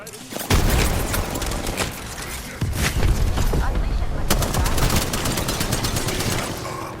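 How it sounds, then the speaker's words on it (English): A frag grenade is thrown and explodes amid heavy gunfire in the video game Apex Legends, with dense overlapping shots and a loud boom or two in a sustained, chaotic battle mix. "Throwing frag."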